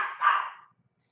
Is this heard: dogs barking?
yes